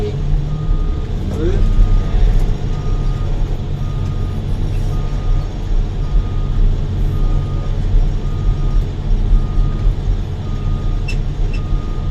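A reversing vehicle, a car with a gear selector that can jerk, sounds its warning beeps in a steady repeated pattern over a loud, continuous engine rumble close by.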